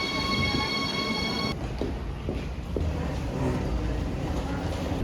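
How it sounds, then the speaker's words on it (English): Suspended sky train in Dortmund, a car hanging beneath an overhead rail, gives a steady rumbling run with a few soft knocks, close and continuous after a brief high electric whine at the start. "Didn't realize what they meant by sky train."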